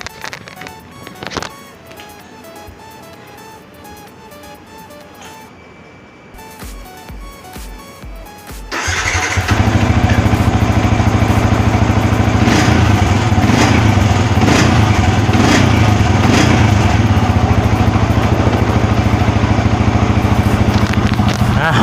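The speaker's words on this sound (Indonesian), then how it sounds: "Motor sudah berhasil nyala ya lur ya." A Yamaha Vixion motorcycle, its throttle body just cleaned, starts after a quiet stretch of work noise near the nine-second mark and then runs steadily and loudly close by, a rough buzzing idle that continues to the end.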